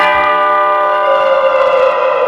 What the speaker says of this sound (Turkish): Bu çanlar senin için ölümü bildiriyorlar.